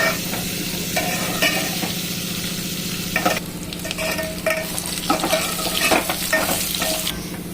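Dried red chillies and curry leaves sizzle and crackle in hot oil for a dal tempering, with steady frying hiss and occasional stirring clinks, no talking.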